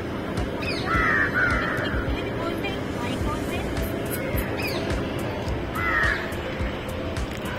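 Crows caw in short harsh bursts at intervals, near and clear over a noisy outdoor background with distant engine rumble.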